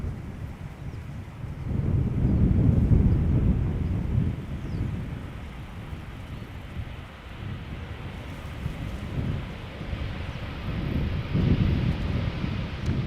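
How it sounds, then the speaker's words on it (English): An Embraer 195 in from Warsaw lands at Schiphol. A low, distant jet rumble swells and fades, mixed with wind noise on the microphone. It peaks early, then settles into a steady drone. "Embraer 195, flight 263, arriving from Warsaw, 1 hour 47 minutes it has flown to get here."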